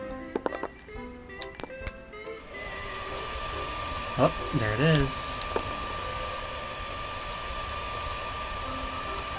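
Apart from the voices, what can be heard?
hairdryer running in the video game I am Bread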